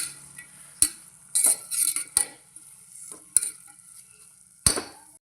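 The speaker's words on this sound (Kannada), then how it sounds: "ಇದನ್ನು ಒಂದು ಸಾರಿ ಮಿಕ್ಸ್ ಮಾಡ್ಕೊಳ್ತಿದ್ದೀನಿ ಚೆನ್ನಾಗಿ." A spoon stirs tomatoes and vegetables frying in a pan, producing several distinct metallic scrapes and clinks over a faint, steady sizzle.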